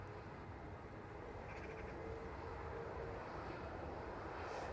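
A Gulf Air Boeing 787 Dreamliner passes overhead at Manchester Airport, a steady, fairly distant jet roar that holds level throughout with no voices.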